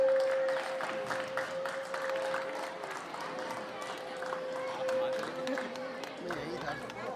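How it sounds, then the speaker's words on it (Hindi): A crowd at a school annual function applauds loudly for girls being honoured, dense, sustained clapping with murmuring voices over it and a steady tone running underneath throughout. "उसके बाद जोरदार तालियां।"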